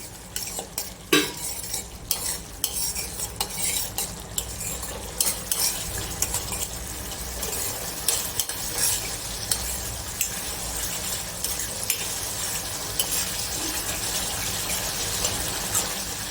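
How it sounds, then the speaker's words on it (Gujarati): Spiced masala gravy for a bottle gourd curry sizzles steadily in a pan while a spoon stirs and scrapes through it in repeated strokes, close and continuous with no talking. "હવે મસાલો ચડવા દઈશું આપણે."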